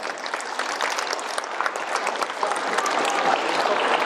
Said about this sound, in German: einen tosenden Applaus